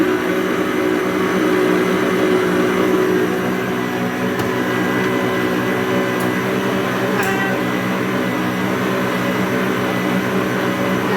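An electric mixer whirs continuously through brownie batter, a loud, steady motor drone at close range with no pauses and no talk.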